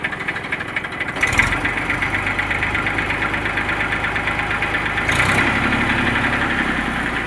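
A Massey 241 tractor with good oil pressure idles with a steady, knocking diesel chug, stepping up slightly in pace twice as the throttle nudges, close and alone.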